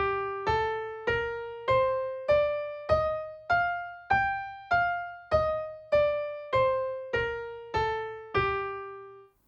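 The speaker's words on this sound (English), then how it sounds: "here's how the G natural minor scale sounds like, by playing both the ascending phase and the descending phase" A G natural minor scale, fifteen evenly spaced single notes climbing then descending, each struck cleanly and ringing into a quick decay before the next, played alone with no talk.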